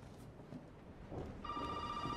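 A telephone rings in the horror game Resident Evil 7, a bright electronic bell tone that starts partway through over dark low ambient rumble, moderately loud and steady.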